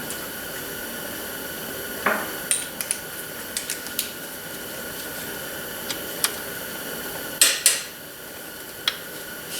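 A wrench works the valve cover bolts on a Honda Odyssey, with scattered metallic clicks and ratcheting ticks over a steady background hiss, a few louder clanks near the end.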